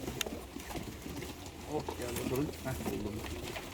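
Blue çavuş pigeons coo in low, soft, rolling calls, repeated several times close by while someone talks over them.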